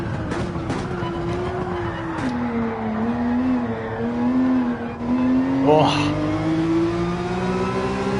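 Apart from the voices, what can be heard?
Porsche 911 engine revving in video game Gran Turismo 7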